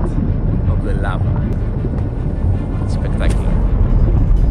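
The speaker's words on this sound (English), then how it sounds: "this is the sound of the lava." Erupting lava at an Icelandic volcano before sunrise, a steady low rumbling roar with wind buffeting the microphone throughout and faint higher whooshes.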